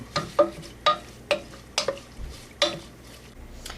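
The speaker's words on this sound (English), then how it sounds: "Take our spoon and just swish it around a little bit." A spoon swishes through a mint jelly mixture in a pot, a close series of about eight quick scraping strokes in an uneven rhythm, with quiet gaps between them and no voices.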